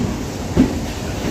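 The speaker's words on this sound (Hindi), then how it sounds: "CNG वाली डेमू है ये।" A CNG-powered DEMU passenger train runs through rural Punjab, heard as a steady low rumble of rolling wheels and car noise with one brief louder knock midway.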